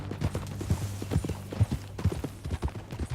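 Horse hooves clip-clop at a steady trotting rhythm while riding in the video game Red Dead Redemption 2, a close, repeated series of thuds with no talk over them.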